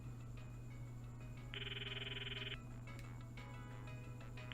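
An old cell phone ringtone plays in the Steins;Gate video game, a bright electronic trill lasting about a second, set over a steady low hum and faint background music.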